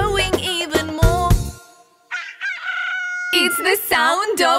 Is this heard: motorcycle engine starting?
no